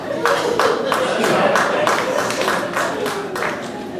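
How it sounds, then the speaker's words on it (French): A few claps of audience applause at a history talk, sounding as a sparse, irregular series of sharp hand claps of moderate loudness over a low background murmur, with no clear speech on top. "je profite des quelques applaudissements pour"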